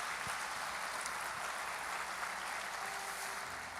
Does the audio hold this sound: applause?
yes